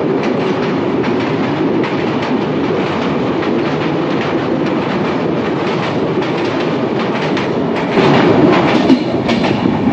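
A passenger train on the Dhaka to Panchagarh line rolls along with a steady, loud rumble and rhythmic clickety-clack of wheels over rail joints, the noise swelling slightly near the end.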